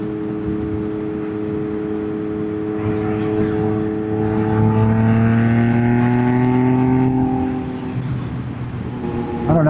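A motorcycle's exhaust drones steadily while riding on the road, a loud sustained engine hum that rises in pitch as the bike accelerates, then eases off near the end, mixed with wind rush.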